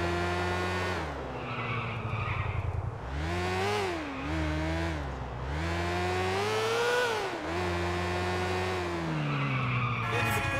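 A motorcycle in GTA IV skids through a turn, its loud engine rising and falling in pitch over about ten seconds, with screeching tire noise swelling as the bike slides.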